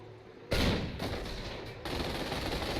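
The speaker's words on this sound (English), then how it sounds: "Sniper taking pot shots at my stuff. Calliope firing at my other squad" Sniper shots and Calliope rocket barrages roar through a Company of Heroes battle over Paris, a dense continuous wall of gunfire and explosions with a sharp surge near the start.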